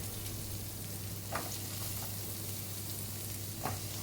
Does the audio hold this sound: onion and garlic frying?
yes